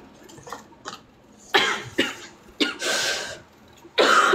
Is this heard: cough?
yes